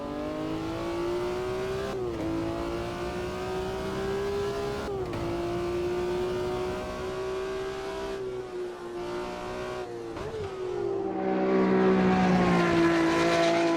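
A BMW M1 Procar race engine in a sim racing game at the 1971 Nürburgring, revving loud and steady through several gear changes with brief dips, then climbing harder toward the end.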